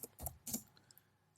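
Keys on a computer keyboard are tapped while a ROS run command is typed, giving a few quick, quiet clicks close by and then a scatter of fainter taps in a hushed room.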